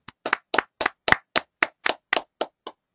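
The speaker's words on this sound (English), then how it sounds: "All of you guys deserve a round of applause." Eleven distinct hand claps in a steady, evenly spaced rhythm from a single person at a GRE preparation seminar, close and crisp, with no talking.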